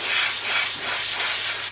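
Cleaner sprays hard into a tuner cap as a steady, close hiss that lasts nearly two seconds and then cuts off.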